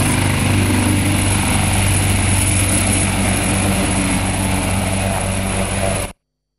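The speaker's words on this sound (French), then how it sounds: "le président Sassou Nguesso a pris place à bord de son hélicoptère en fin de journée pour traverser les majestueux fleuves Congo" A presidential helicopter lifts off near the Congo river, a loud, steady rotor and turbine roar close by that cuts off abruptly, with no speech.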